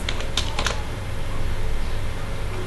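Computer keyboard typing out a MySQL connection query in PHP code, a quick burst of several close key clicks at the start, then a low steady hum with no further keystrokes.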